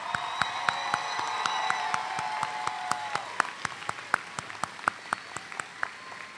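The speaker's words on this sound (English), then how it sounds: "while we are applauding" Graduation ceremony crowd applauding and cheering, broad clapping with a whoop early on, thinning out into a few loud, evenly spaced individual claps close by.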